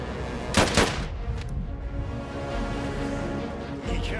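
Machine gun fire in Last Train Home, a rattling burst of shots near the start over a dense, constant battle din that runs throughout, with no speech.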